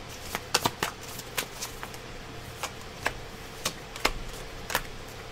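Tarot cards are shuffled for a reading in close, quiet, crisp riffles and snaps, scattered unevenly, with no talking.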